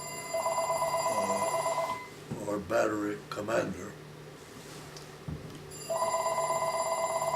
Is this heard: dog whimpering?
no